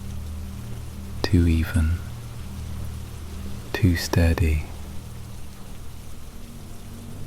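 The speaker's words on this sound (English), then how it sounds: "The rain has softened" Soft, even rainfall outside a seaside cabin forms a quiet steady hiss beneath a calm voice speaking in two short phrases.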